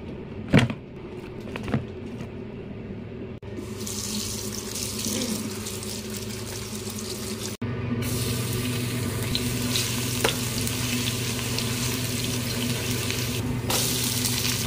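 A cooking pot is washed under a running kitchen sink tap: a steady close rush of water with splashes, scrapes and a few knocks from handling the pot, and the flow grows stronger partway through.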